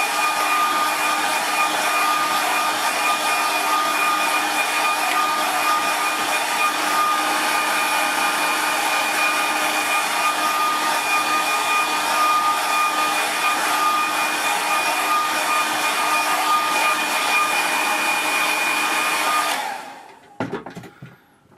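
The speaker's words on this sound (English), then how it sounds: "And let's give that a quick dry." A hair dryer blows steadily and loud on a watercolour painting of a road to Ullswater, a continuous whine and rush lasting about twenty seconds before cutting off abruptly.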